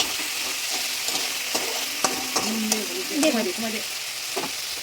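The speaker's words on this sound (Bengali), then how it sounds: "এইবার আমি এটাকে হালকা করে নাড়াচাড়া করে নেবো, নাহলে পুড়ে যাবে নিচটা।" Prawn malai curry masala sizzles in a pan as a spoon scrapes and stirs it in short irregular strokes, with a steady frying hiss underneath and no talking.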